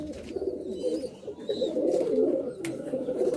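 A flock of male pigeons, Malwai and Madrasi breeds, fills a loft in Budge Budge with dense, burbling coos that swell and overlap nearby, steady throughout and unaccompanied by voices.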